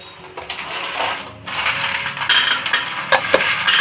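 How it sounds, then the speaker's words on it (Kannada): A kitchen mixer grinder churns ingredients for palak bath, giving a rough, rattling, crushing whir that surges and varies in intensity, with gritty clatters throughout. "ಇದು ಮಿಕ್ಸಿಗೆ ಹಾಕೊಂಡಿದ್ದಾಳೆ"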